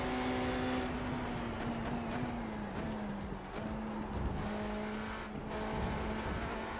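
An unrestricted LMP2 race car in a racing video game drives at speed. The engine holds a steady high whine, dipping briefly as it shifts, over a dense roar of tire and road noise, loud and continuous, with no talk.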